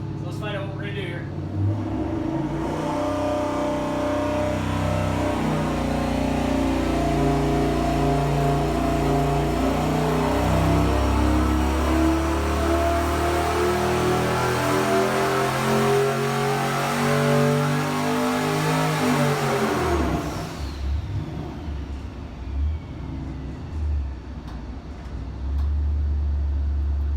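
A junkyard turbocharged Hemi V8 with long-tube headers, revved during a turbo run: the loud, close engine climbs steadily in pitch for about fifteen seconds, cuts off abruptly, then settles into a lower idling rumble.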